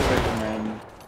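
A single loud black-powder musket shot from a Civil War-era battle in War of Rights booms close and decays into a short rumbling echo.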